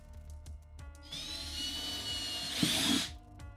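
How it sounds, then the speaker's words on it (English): A power drill fitted with a 7/32 bit bores a rivet hole while a Club Car Precedent golf cart body kit is installed. Soft taps lead into a loud whirring spin that rises as the bit bites, then stops abruptly. "using a 7/32 drill bit, we'll go ahead and drill this hole out."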